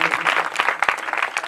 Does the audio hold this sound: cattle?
no